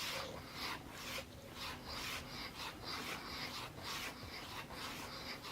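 Steel knife blade drawn along a sharpening surface in steady alternating strokes, a continuous close rasping rub with regular rhythmic pulses and no speech.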